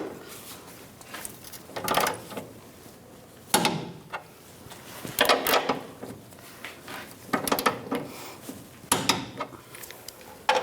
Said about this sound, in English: Torque these bolts to 74 foot-pounds.